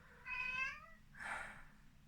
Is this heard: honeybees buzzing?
no